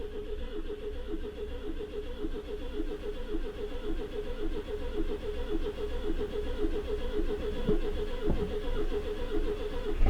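A Citroen GSA engine already running after a choked start, a low steady idle with a faint rattle, fairly quiet and close, a couple of clunks near the end, no talk.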